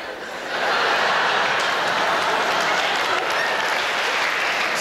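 A large audience at the 1998 Juste Pour Rire comedy gala bursts into sustained applause, a dense, loud field of clapping that swells within the first second and holds steady.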